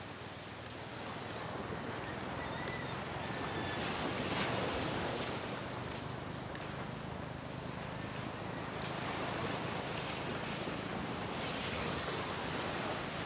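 Ocean waves at Bukana wash in a continuous broad surf roar, with wind buffeting the microphone throughout and no voices.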